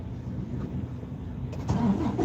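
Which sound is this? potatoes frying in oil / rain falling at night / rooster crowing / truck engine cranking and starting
truck engine cranking and starting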